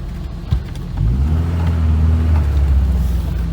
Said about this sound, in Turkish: Araba dediğim gibi canavar yani.